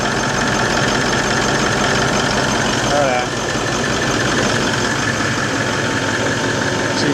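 Toyota Land Cruiser 79 Series engine running at idle after a turbo replacement, a steady broadband rumble and hum throughout, up close and loud, with a brief voice around the middle.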